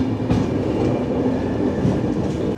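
Barak Brahmaputra Express pulling out of Sibsagar Town station, a steady loud rumble of rolling stock with rhythmic wheel clatter and rail noise throughout, no voices.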